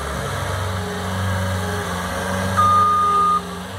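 A Bobcat skid steer loader working a weedy, overgrown garden plot, its engine droning steadily up close while a single sharp reversing beep sounds for under a second near the end.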